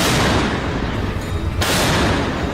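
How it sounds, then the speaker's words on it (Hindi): Heavy German PzH 2000 self-propelled howitzer fires in a war zone, giving a loud, sustained roar of broadband blast noise that dips briefly and returns, with no voices. "रूस के ठिकानों से आग के गोले बरसाती ये है जर्मनी की सबसे भरोसेमंद आर्टिलरी।"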